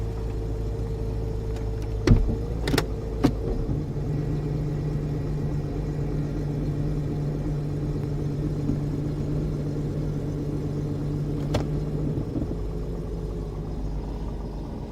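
A Jeep XJ idles on a cool day of about 45 degrees with the brake held, giving a steady low engine rumble throughout and a few sharp clicks or knocks near the start and again near the end. No one speaks.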